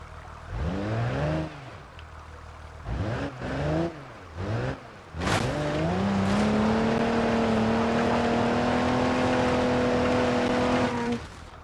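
A Jeep's engine in BeamNG.drive revs in short bursts with gear-change dips, then climbs into a sustained, steady loud drone as the vehicle drives on, with no talking.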